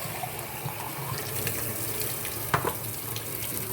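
Warm water runs steadily from a kitchen tap into a sink, a constant hissing splash with one small clunk partway through and no voices.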